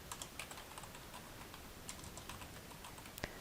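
Soft, quick keystrokes tap out a web address on a computer keyboard, a quiet irregular patter with one sharper key press near the end.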